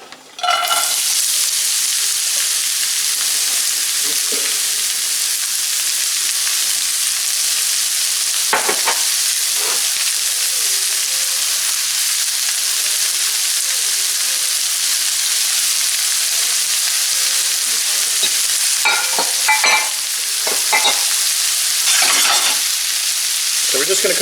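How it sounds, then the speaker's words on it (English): Onions and garlic sauté in light olive oil in a pan over medium-high heat, giving a loud continuous sizzle with a few stirring scrapes, heard close up with no voices. "So we're just about to add our onions and garlic in."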